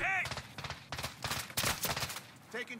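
Gunfire in the video game Warzone, rapid bursts of automatic shots in repeated clusters, loud and close, with a brief voice at the start.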